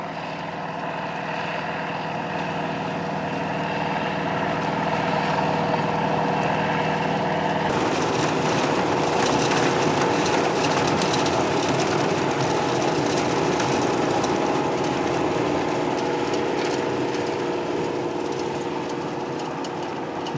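A 1994 Riecam RBM 300 six-row tanker sugar beet harvester runs steadily with a droning engine and mechanical whir, swelling louder after a few seconds as the machinery picks up, with no talk.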